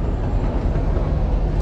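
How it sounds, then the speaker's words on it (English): Tram passing at night, a close, steady low rumble of wheels on rails with broadband rolling noise throughout, no voices. "Let's see if we can get this tram."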